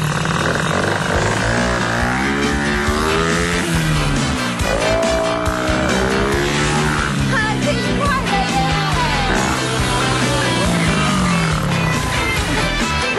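Motorcycles in Iwate, a fast bike ridden by a club president, roar through rising and falling engine revs, a loud continuous whine that climbs and drops with gear changes, close up and without speech.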